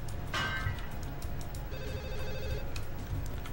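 A phone ringtone chimes repeatedly under dense, busy sound effects and background noise in the video game Deus Ex: Revision, fairly loud throughout.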